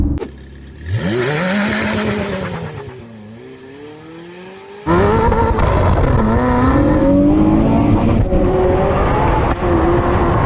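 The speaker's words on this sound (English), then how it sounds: "Oh, that's better, but still so much wheel spin." A Zenvo TSR-S supercar launches hard from a standstill with wheel spin, its engine rising and falling as gears change, then roaring louder and closer in a sustained, climbing pull, with no talking.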